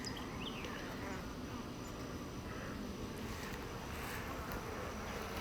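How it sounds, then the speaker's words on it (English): Dense, continuous buzzing of many bees close by, a steady drone with a faint breezy hiss underneath. "bunch of bees in there."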